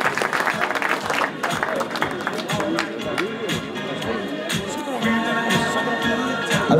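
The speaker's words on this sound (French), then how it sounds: "Vous pouvez les applaudir en tant que troisième déjà, hein, après le podium et les interviews." An audience claps for the third-placed crew at a 4WD rally podium ceremony, with dense sustained applause and crowd noise under someone talking over a loudspeaker throughout.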